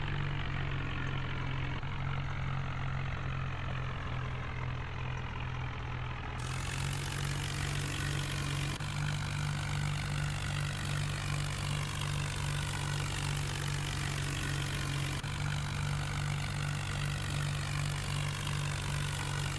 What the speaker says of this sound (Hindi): तो देख सकते हैं काफ़ी धीरे हमारा जो इंडिया ट्रैक्टर चल पा रहा है क्योंकि बस काफ़ी भारी होने के कारण हमारा ट्रैक्टर खींच नहीं पा रहा है